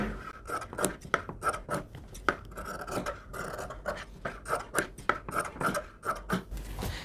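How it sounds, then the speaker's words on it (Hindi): Scissors cutting extra fabric for a face mask, close and fairly quiet, a steady series of short snipping crunches and rustles with no talking. "अब हम इसके बराबर से एक्स्ट्रा कपड़ा ऐसे कटिंग करेंगे"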